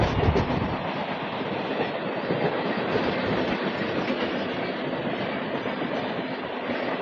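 A Purbanchal Express train rushes past close by on a section between Kolkata, Kharagpur and Bardhaman, giving a loud, steady roar of wheels and rail rumble throughout with no talk.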